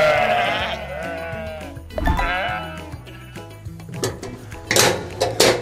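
Goats bleating at an apple orchard, several wavering bleats in a row, close and loud, with quieter bleats following.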